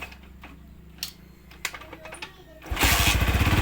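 A Yamaha Verza motorcycle engine cranks on the electric starter and catches, bursting into a loud, close, steady idle with rapid pulsing firing after a stretch of quieter clicks and handling noise.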